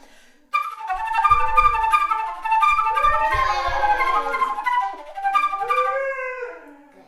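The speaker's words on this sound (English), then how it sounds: "My dog's howling." A dog howls in long, rising and falling wails with breaks between, close and fairly loud, ending in a softer trailing whine.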